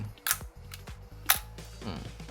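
A Nikon FE film camera's shutter fires twice, each release a crisp mechanical snap about a second apart, close and distinct, with someone speaking briefly between the shots.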